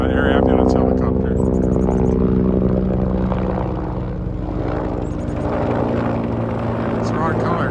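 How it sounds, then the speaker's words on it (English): Air ambulance helicopter thuds overhead during a creek-side walk in Regina in March, a loud, steady rotor drone with a low pulsing beat that eases slightly midway, while a person talks nearby. "Air ambulance helicopter."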